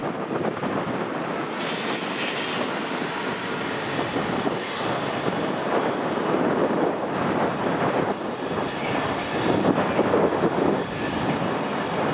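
Strong wind buffets a very windy rooftop car park at Paisley Piazza, a steady broadband roar and rush filling the scene throughout, loud and unbroken with gusty swells and no voices.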